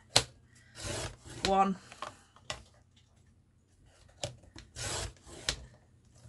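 Chipboard pieces cut to size for a hinged ring minibook, giving short rasping, scraping bursts separated by pauses, close and fairly quiet, while a voice briefly counts.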